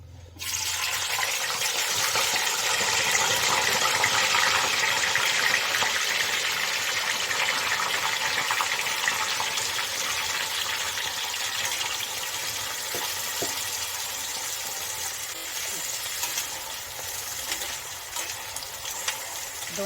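Slices of amla (Indian gooseberry) fry in hot oil for a pickle, producing a loud, continuous bubbling hiss that starts abruptly and holds steady for the full stretch, slightly easing toward the end.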